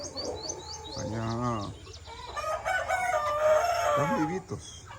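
Chickens cluck and a rooster crows on a farm, the crow rising and falling loudly through the middle, with more clucking, squawks and small bird chirps layered throughout at close range.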